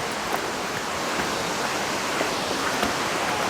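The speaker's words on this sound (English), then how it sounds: "Wow, what a waterfalls!" Aagaya Gangai waterfall in the Kolli Hills: a steady, broadband rush of falling water, constant and enveloping without pauses, heard close with no talk.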